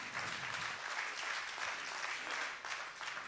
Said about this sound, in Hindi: मैं चाहता हूँ एक बहुत ज़ोरदार ताली आप नोनी के लिए करते हैं।